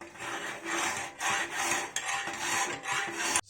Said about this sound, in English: So I just continue filing